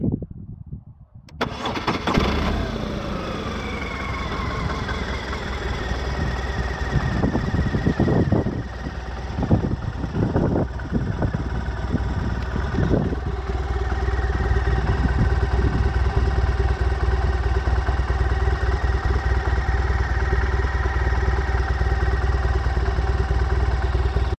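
A BMW R1200R motorcycle engine cranks and fires after a short silence, then settles into a steady, loud, close idle with a lumpy beat that carries on unbroken to the end, with no talking over it.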